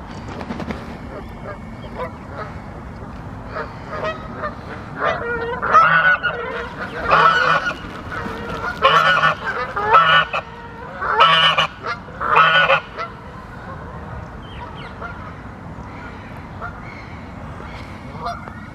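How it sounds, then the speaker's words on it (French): Moorhens call in a snowy Bois de Vincennes in Paris, a series of loud, honking calls clustered mid-clip over a quiet outdoor background, fading to near silence toward the end. "Il y a des petites poules d'eau."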